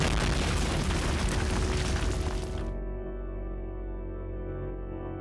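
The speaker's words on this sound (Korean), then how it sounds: "갑자기 밖에서 폭발음이 들려왔고" An explosion sound effect, meant as a car blowing up outside a hotel, gives a loud, dense roaring blast lasting under three seconds. It cuts off sharply into a low, fading hum.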